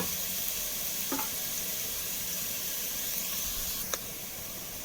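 Onions sautéing in a pan for tomato rice give a steady, even sizzle and hiss throughout, with a couple of brief scraping stirs near the start and toward the end.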